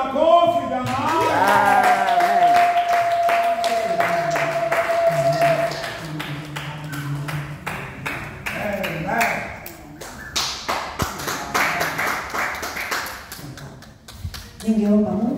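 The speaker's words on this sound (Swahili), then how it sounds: "Piga makofi jamani." A church congregation claps their hands during a service: a run of sharp, fairly loud claps in a loose rhythm, mixed with voices and a sustained sung or spoken tone early on.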